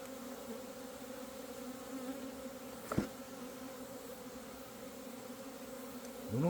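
A swarm of honeybees on the move gives a steady, layered buzzing drone. Single bees pass close now and then, rising and falling in pitch against the continuous hum.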